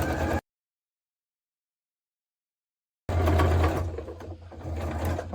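A sewing machine stitches along fabric in a short burst, then falls silent for a few seconds before the mechanical whirring and clatter resume, loud and close.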